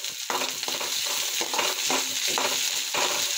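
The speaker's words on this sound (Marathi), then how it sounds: "शिमला मिरची, थोडेसे हिरवे कांदे छान फ्राय होऊ देऊ।" Capsicum and green onions sizzle steadily in a pan for chicken soup. Repeated stirring scrapes through the sizzle, and no voices are heard.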